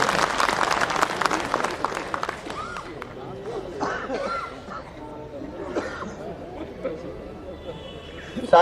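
Scattered clapping from a small audience at a political speech rises briefly at the start, then thins into low murmuring chatter and a cough or two in a hall.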